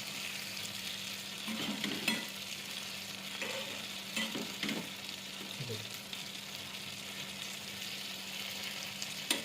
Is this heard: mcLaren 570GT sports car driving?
no